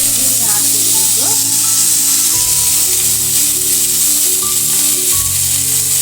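Eggplant pieces fry in hot oil in a pan for bisi bele bath, giving a loud, steady sizzle with faint clinks of utensils and a few low background voices.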